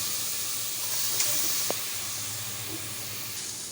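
Fatty bone-in meat sizzles in a cooking pot with a steady, close hiss, with a couple of faint clinks over the top.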